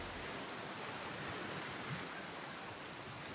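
Waterfall in the video game Gears 5, a steady broad rushing roar that holds evenly throughout with no breaks.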